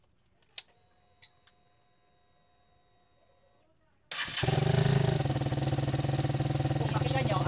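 A motorcycle engine with bad valve clearance starts after a few faint clicks, then settles into a loud, steady idle with a rapid ticking running through it.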